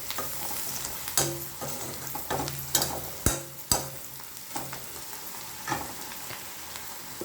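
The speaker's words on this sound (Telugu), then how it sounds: "మళ్ళీ ఆనియన్స్ అన్నిటివి ఇలా మగ్గాలండి." Onions sautéing in a pan for a bitter gourd fry, giving a steady low sizzle broken by several sharp scraping stirs of a spatula against the pan, close by, with no talking.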